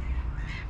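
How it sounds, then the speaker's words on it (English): A bird calls once beside a river where seagulls and geese gather, a short harsh cry over low rumbling background noise. "Birds, seagulls, geese, all sorts."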